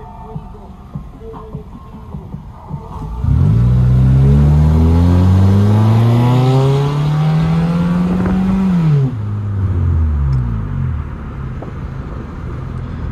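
A small Nissan Skyline R34 engine revs up loudly with a rising pitch over several seconds, holds, then eases off, with faint music in the background.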